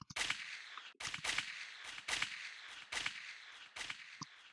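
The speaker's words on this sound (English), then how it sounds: "Then of course the gunshot effect," A gunshot sound effect from an afro drill beat fires five times at regular intervals, each a sharp, loud crack followed by a short decaying tail, with no talking.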